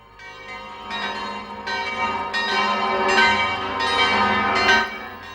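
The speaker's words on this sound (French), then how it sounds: "les cloches des églises de Suisse ont sonné" Church bells in Switzerland ringing in overlapping, resonant peals, several strikes layered into a continuous ringing wash, moderately loud and without voices.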